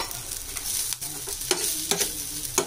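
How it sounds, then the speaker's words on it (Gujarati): Cooked rice tossed into a frying pan for pav bhaji pulao and gently mixed, with steady sizzling and a few soft scraping stirs of the spatula, close and continuous with no talking. "હવે આપણે એમાં રાઈસ નાખશું"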